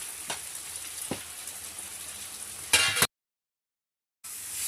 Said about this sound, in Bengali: তেলে জিরে দিয়ে দিচ্ছি, কচু দিয়ে দিচ্ছি